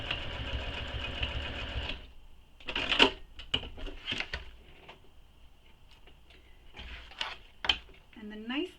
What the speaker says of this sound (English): so I'm just going to backstitch